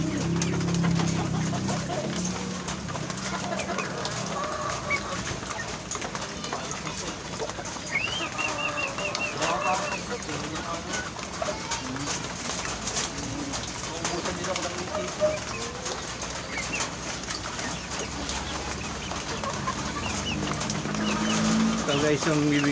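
Pigeons cooing softly among other birds in a pigeon loft, with a steady layer of background noise throughout and occasional calls rising above it.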